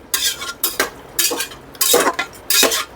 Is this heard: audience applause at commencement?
no